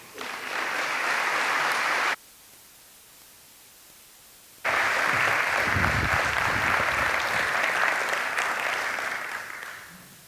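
Audience applause welcoming Howard Tellepsen at a CCB event at HBU: a steady wash of clapping for about two seconds breaks to near silence, then swells again loud and sustained for several seconds before fading.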